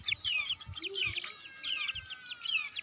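Month-old cross-breed Aseel chicks, about 300 grams each, peep and chirp in quick overlapping bursts, with a few low soft clucks underneath, close and moderately quiet.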